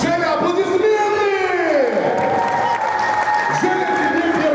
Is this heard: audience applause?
yes